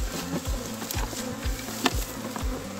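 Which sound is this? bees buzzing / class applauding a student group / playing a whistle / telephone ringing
bees buzzing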